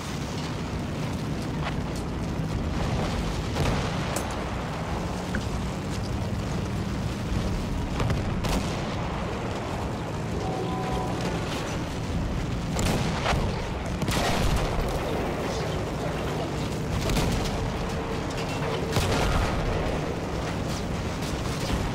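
Gunfire and explosions from the World War I video game Battlefield 1 keep going throughout, a dense, loud battle soundscape with repeated sharp shots and booms layered over constant rumble.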